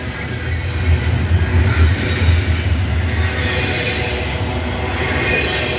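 Freight train hauling JB Hunt intermodal containers rolls past close by, a steady loud low rumble of wheels and cars with no break across the whole stretch.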